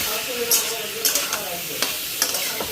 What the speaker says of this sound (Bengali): তো আজকে না সয়াবিনটা একটু মশলাটা দিয়ে ভেজে নিলাম